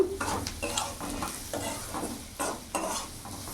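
Fried potatoes being stirred in a frying pan, rhythmic scraping strokes of a spatula repeating about every half second over a soft continuous sizzle.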